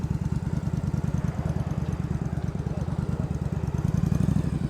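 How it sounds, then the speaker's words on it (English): A motorcycle runs at low speed with the throttle held steady during slow-speed riding practice, producing a rapid, even engine thrum that stays close and constant throughout. "And keep that throttle loaded."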